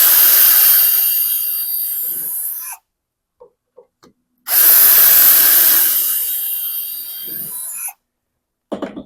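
A power drill boring dowel holes into a wooden board through a Milescraft JointPro doweling jig: two long, loud whirring runs, each about three seconds, separated by a brief quiet pause with light handling clicks.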